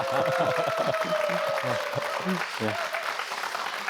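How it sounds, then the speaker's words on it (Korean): A studio audience at a Korean government policy talk show with a unification minister applauds briefly while a presenter keeps speaking over the clapping, which fades within a few seconds. "이럴 땐 빨리 박수 한번"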